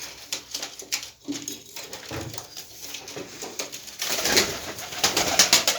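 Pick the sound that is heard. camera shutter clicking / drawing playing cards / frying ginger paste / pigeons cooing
pigeons cooing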